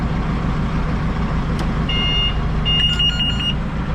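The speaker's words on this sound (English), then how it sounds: "Beeper. I hate beepers." A vehicle's reversing beeper sounds in a short series of high, evenly spaced electronic beeps, heard at moderate distance over a constant low rumble of engine and road noise.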